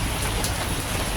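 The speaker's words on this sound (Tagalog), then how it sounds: "malakas ng ulan." Heavy rain pours down in a steady, dense hiss, loud and close, with no voices over it.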